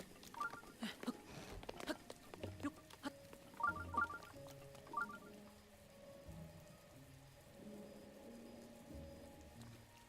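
Rain falls in The Legend of Zelda: Breath of the Wild, a soft patter under scattered chimes and game sounds that come in short bursts early on, then settling into a quieter, steadier wash.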